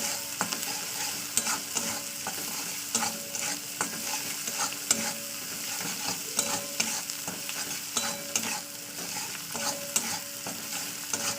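Ginger-garlic paste with salt and turmeric sautéed in hot oil for a meat and bottle gourd curry, a steady close sizzle broken by repeated sharp scrapes and clacks of a spoon stirring the pan, with no talk.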